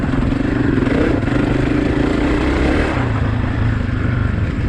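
Honda CRF250F dirt bike engine held in fourth gear on a wooded trail, a loud continuous four-stroke drone with steady rumbling pulses and slight rises in pitch, close and alone with no talk.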